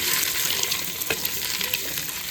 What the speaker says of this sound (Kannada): ಸೊ ಇದು ಫ್ರೈ ಮಾಡ್ಕೋಬೇಕು ನೋಡ್ರಿ ಎಗ್. ಹಂಗೆ ಒಂದು ಸ್ವಲ್ಪ ಅದು ಸಿಡಿತು ನೋಡ್ರಿ ಚಟಪಟ ಅಂತ